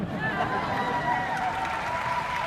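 Audience applause at a live comedy show, a steady wash of clapping and crowd noise held at an even level throughout, with voices mixed in.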